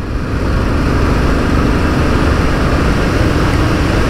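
A Royal Enfield Bullet 350 motorcycle at speed gives a steady, loud engine drone mixed with wind rush throughout, with no speech.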